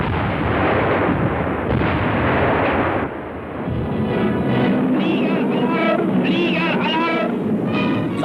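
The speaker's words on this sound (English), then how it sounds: "20mm and 88mm flak guns provide a heavy barrage which takes its toll on a number of the" A 1943 anti-aircraft barrage of 20mm and 88mm flak guns at a German air and seaplane base in northern Norway, with dense booming and crackling fire, then bursts of rapid firing over a brief lull, on old film soundtrack.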